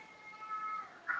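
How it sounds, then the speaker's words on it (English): A pet cat meows indoors during an evening online book club, a drawn-out, fairly faint vocal cry that rises into a brief stronger note at the end. "I'm sorry about my cat. He is very vocal tonight for some reason."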